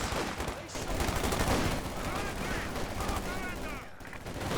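In the Company of Heroes 2 video game, a phosphorus grenade bursts amid a dense crackle of gunfire and explosions, with the din running continuously and fairly loud throughout.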